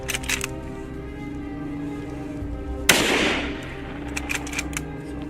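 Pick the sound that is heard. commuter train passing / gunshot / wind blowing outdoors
gunshot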